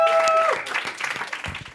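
Audience applause breaks out in a studio dating show, a broad wash of clapping that carries through the whole moment, with a bright tonal chime cutting off early and voices mixed in under the clapping.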